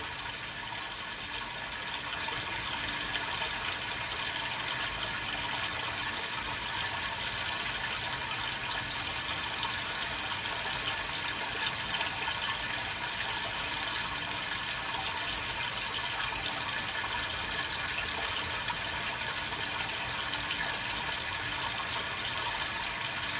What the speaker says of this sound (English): So we're going to let this water try to clear this image out here a little bit.